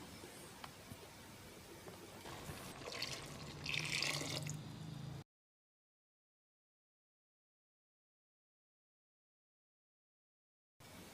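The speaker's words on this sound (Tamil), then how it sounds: "மொத்தமாக நான் 1/2 லிட்டர் அளவுக்கு தண்ணி சேர்த்துருக்கேன்." Water is poured into a pot of simmering goat intestine curry (kudal kulambu), a close, trickling splash lasting about five seconds and swelling briefly before it cuts off into silence.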